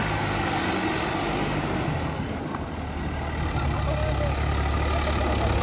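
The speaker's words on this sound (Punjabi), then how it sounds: "ਹੁਣ ਵੀਰ ਤੀਜਾ ਗੇਅਰ ਪਾਉਣਗੇ" A turbo-modified tractor engine runs in gear with a loud, steady, rumbling drone that stays close and continuous throughout, with no talk over it.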